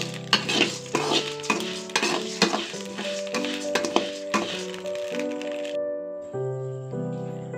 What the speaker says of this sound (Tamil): அரிசி பொரியது சத்தம் கேட்குது பாருங்கள்